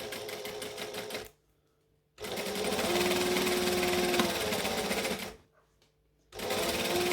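A sewing machine runs a quarter-inch seam along shorts fabric in two long, steady bursts of rapid mechanical stitching, close and loud, broken by brief pauses.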